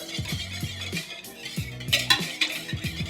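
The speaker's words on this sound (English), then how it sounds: "Let's mix that all together." A spoon rapidly mixing active dry yeast into a spiced dry flour mixture in a bowl for vegan pumpkin spice donuts, quick rhythmic clinking and scraping strokes against the bowl, close and distinct.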